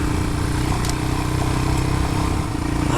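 A Royal Enfield Himalayan motorcycle engine thrums steadily while riding near the Grand Canyon, a close, loud, even pulsing rumble with some mechanical clatter and no break.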